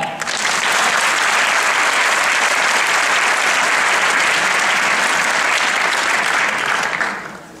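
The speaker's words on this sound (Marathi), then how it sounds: "तर या 4 कलाकारांसाठी एकदा जोरदार टाळ्या." An audience claps loudly for four performers at a Gudi Padwa community program, dense sustained applause that swells quickly, holds for several seconds, then tapers off at the end.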